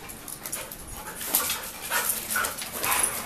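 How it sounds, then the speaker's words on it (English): Puppies whimper and yip in short, high, overlapping bursts close by, the thin cries rising and falling repeatedly with no one speaking. "Puppies."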